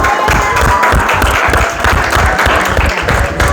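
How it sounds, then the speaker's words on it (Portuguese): An audience bursts into dense, steady applause, many hands clapping together at close range for a few seconds. "Uma salva de palmas para você."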